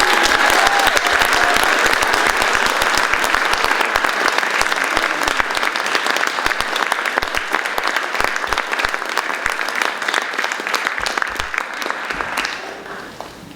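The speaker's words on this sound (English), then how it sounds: "Would you all please join me in a warm round of applause for the new Apollo National Honor" Sustained, loud, dense applause from a high school audience welcoming new Apollo National Honor Society members at an induction ceremony, many hands clapping steadily for over ten seconds before gradually thinning out at the end.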